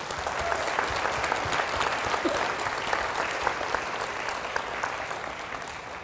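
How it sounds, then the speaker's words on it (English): A dense, steady round of applause from an audience at a public talk, even clapping throughout at moderate level with no speech over it. "So please join me in another round of applause for Kendall."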